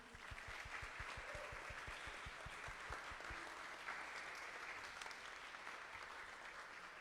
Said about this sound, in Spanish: Así que un aplauso para todos por estar aquí.